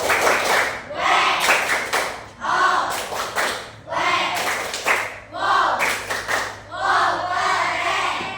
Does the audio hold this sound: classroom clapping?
yes